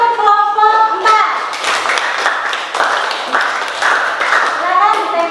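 Classroom applause for student group 4, a burst of dense clapping from many hands that fills the whole stretch, loud and close, with a teacher's voice heard briefly at the start and end.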